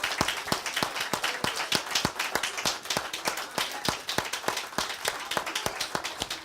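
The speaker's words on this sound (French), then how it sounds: "On peut acclamer le Saint-Esprit" A church congregation at a seminar claps in a fast, steady rhythm, crisp evenly spaced hand claps repeating without pause, fairly close and clear.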